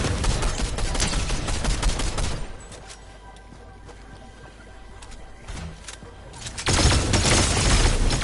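Gunfire in the video game Fortnite during a competitive match, with dense bursts of rapid shots at the start, a quieter stretch with scattered single shots, then another loud sustained volley at the end.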